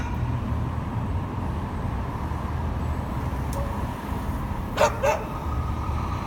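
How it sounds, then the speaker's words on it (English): A dog barks twice in quick succession, brief and somewhat distant, over a steady low background rumble like nearby traffic. "Look at who that dog's barking at."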